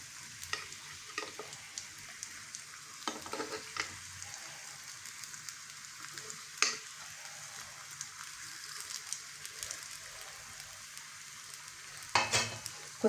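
Sweet wheat kuzhi paniyaram fry in oil in the pan's cups, a soft continuous sizzle broken by a few sharp taps and scrapes, including a louder clatter near the end.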